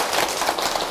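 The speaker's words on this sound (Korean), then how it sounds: "예, 박수 한번 드리세요." An audience claps at a Buddhist monk's dharma talk, a brief, dense burst of many hands applauding together for about a second.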